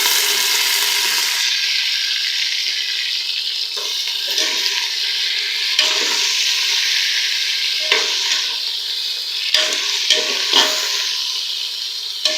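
Beef and onions frying in a pan for bhuna gosht, a steady close sizzle with occasional stirring scrapes and crackles running throughout, no talk.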